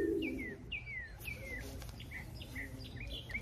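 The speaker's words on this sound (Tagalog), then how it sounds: "Malakas na ibon." A bird calling near its nest in a tree, repeated short descending whistles and chirps in a quick series over a low rumbling background, moderately close.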